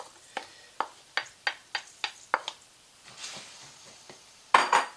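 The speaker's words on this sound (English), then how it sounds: "Here we have all the butter melted into the olive oil, and we're going to add the potato" Diced potato going into melted butter and olive oil in a pan for a Spanish omelette, heard as about eight sharp, evenly spaced clinks of a utensil on the pan, then a short soft sizzle and a final louder clatter, with no talk.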